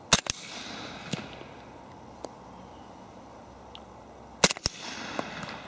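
Suppressed Glock 30 in .45 firing wet 230-grain Underwood rounds outdoors: a quick pair of sharp muffled reports at the start and another close pair near the end, with a few fainter distant cracks between over quiet ambience.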